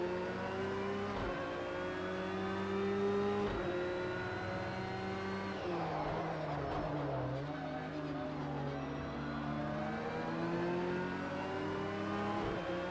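Race car engine in Project Cars 2 revving steadily for the whole stretch, its harmonic whine rising and falling with gear changes and a brief rougher burst midway, loud and continuous with no talk over it.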